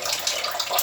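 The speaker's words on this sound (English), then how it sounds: "So I wash with hot water, I boil it" Hot water runs from a tap over pork being washed, a short, close, hissing splash that fluctuates briefly without any talk.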